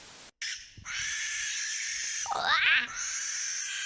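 A barn owl gives a harsh, hissing screech held for a few seconds, rising into a raspy wavering cry near its end, heard alone in a fairly quiet setting.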